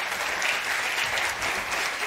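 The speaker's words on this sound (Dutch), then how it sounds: "Een groot applaus." A debate audience breaks into dense, sustained applause, loud and even throughout, with no talk over it.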